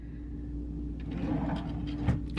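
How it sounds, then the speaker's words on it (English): Cabin drawers on the Allure of the Seas cruise ship slide and knock softly as they are opened or closed. A few faint wooden clicks sit over a steady low ship hum. "But then you have these drawers."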